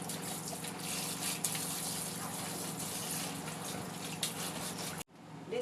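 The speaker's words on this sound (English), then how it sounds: "So I'm washing my leaf now. Going to wash it one after the other." Leaves are washed by hand in water before going into the pot for ayang ekpang, giving a steady close wash of running, splashing water that cuts off abruptly near the end.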